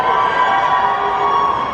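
A convention audience cheers loudly and continuously for Pedro Pascal, a dense, sustained roar of shouts and screams filling a large hall.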